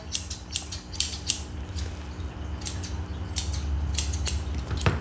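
Repeated crisp snips of scissors cutting a poodle's hair into a teddy bear cut, irregular bursts of sharp clicks over a low steady hum.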